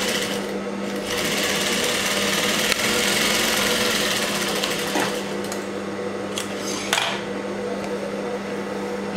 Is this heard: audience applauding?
no